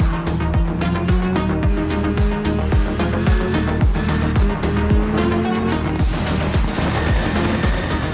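A WRC hybrid rally car in a video game races with a rising, shifting engine note and repeated gear changes, tires squealing and skidding over a loud, continuous mix.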